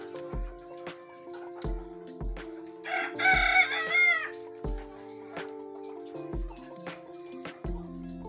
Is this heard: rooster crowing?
yes